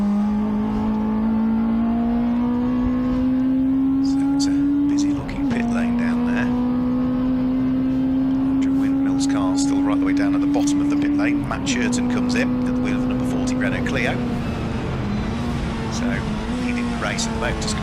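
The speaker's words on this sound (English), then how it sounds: "And also we've got another car from the Puma Cup diving for the pit lane, which is going to be Gareth Copgrove." Tin-top saloon race cars at Silverstone National circuit, including Puma Cup entries and a Ford Fiesta: a loud, continuous engine drone rises through the revs with brief dips at gear changes, under steady race commentary.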